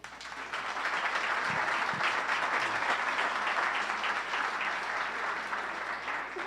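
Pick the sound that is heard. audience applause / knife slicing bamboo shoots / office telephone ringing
audience applause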